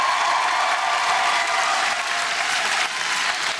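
A comedy club audience in Brighton bursts into sustained, loud applause, a dense wash of clapping that holds steady and then eases slightly toward the end, with no talk over it.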